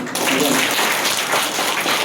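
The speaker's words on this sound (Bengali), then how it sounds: "ওনারা জোরে হাততালি" An audience claps on stage in a dense, steady burst of applause that starts abruptly and carries on loudly to the end, with no voices over it.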